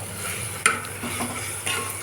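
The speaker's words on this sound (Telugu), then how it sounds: "పసుపు పసుపు వేసి వేయించుకుందాం" Turmeric frying in a pan for a potato mutton curry. A steady soft sizzle carries a sharp utensil tap against the pan and a few light stirring scrapes, with no talking.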